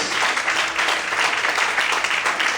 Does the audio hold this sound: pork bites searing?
no